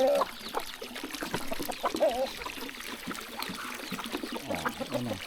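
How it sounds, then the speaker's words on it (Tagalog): Chicks cheep in thin, high peeps scattered throughout, fairly faint and close, mixed with trickling water sounds and low background noise. "kunin natin yung mga sisiw natin"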